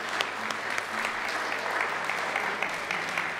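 A church congregation gives a round of applause for a 70th birthday, with steady, dense clapping filling the whole stretch at a moderate level.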